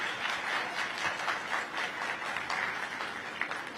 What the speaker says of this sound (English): So let's give him a very warm round of applause.